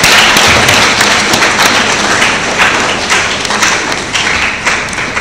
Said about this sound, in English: Shall we give them a clap if they are here?